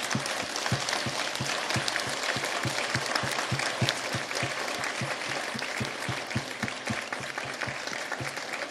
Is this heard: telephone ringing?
no